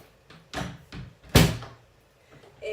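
An inner door is swung shut for anchoring resistance bands at home, giving a few soft bumps and then one sharp close thud, followed by quieter knocks.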